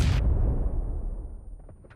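A heavy grenade explosion in a video game, with a deep rumble decaying over a couple of seconds, starting with a sharp burst, followed by faint debris-like clicks.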